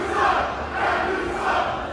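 A wrestling crowd at an independent show in Hialeah, Florida roars in rolling waves of angry jeering at the referee, a dense, loud mass of voices swelling and dipping over two seconds.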